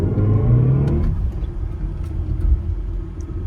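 Brief burst of synthetic acceleration sound from a BMW electric car in sport mode, a rising whine that quickly fades into a steady low road rumble.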